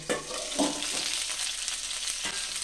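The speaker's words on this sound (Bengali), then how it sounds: "ফুলকপিটাকে একটু নাড়াচাড়া করে ঢাকা দিয়ে দিয়ে ভেজে নেব।" Cauliflower pieces fry in a pan and are stirred, giving a steady sizzle with the scrape and clatter of a spatula. The sound is close and runs without talk.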